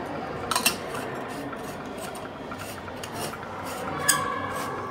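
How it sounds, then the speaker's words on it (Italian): Moka coffee pot being screwed shut by a barman, short metallic rasping and scraping bursts of threaded metal, close and fairly quiet against a steady background. "Chiudiamo la moka"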